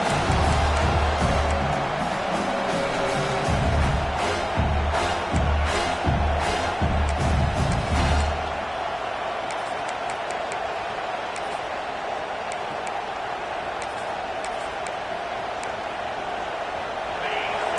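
A home crowd at a college football game roars during a third-down defensive stand, a loud sustained wash of cheering that swells early and then settles into a steadier rumble, with a commentator talking over it.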